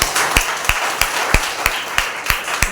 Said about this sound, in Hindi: क्यों ना हम हमारे आराधना टीम के लिए और परमेश्वर के लिए जोरदार ताली बजाएं